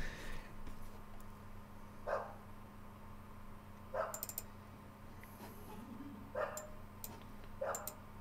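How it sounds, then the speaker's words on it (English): A dog barks now and then in the background, four or five short, spaced barks, faint and somewhat distant over a steady low hum, with no talking. "what is that dog barking at?"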